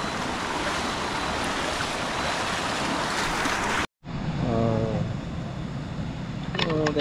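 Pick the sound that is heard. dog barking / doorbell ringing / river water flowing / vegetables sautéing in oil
river water flowing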